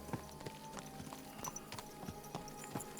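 Horse hooves clip-clop at a walking pace in Kingdom Come Deliverance 2, a repeated rhythmic clatter of steps close by with faint background ambience and no talk.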